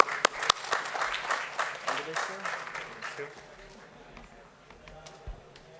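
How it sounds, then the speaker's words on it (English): A conference audience claps to welcome a speaker onto the stage, a burst of scattered, moderately loud claps over a few seconds that thins out and fades into quiet room tone. "Let us all welcome Abhisek with a big round of applause"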